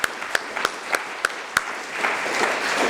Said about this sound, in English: So, big round of applause for the mentees.